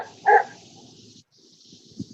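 One sharp, loud bark from a dog rings out during a city commission meeting, then quiet room tone with a faint low thump near the end.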